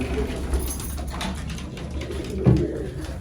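Pigeons coo softly inside a loft where birds are nesting on eggs, with low throaty calls repeating close by and a brief knock or flutter partway through.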